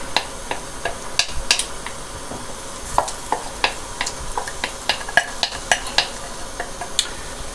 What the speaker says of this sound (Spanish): Colocamos la pulpa de calabaza.